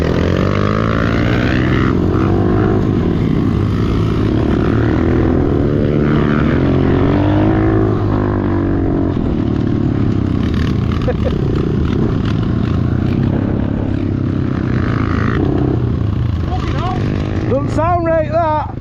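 Several 125cc pit bikes ride past and rev hard, filling the whole stretch with loud, continuous engine drone that rises and falls in pitch. Voices are barely audible beneath it.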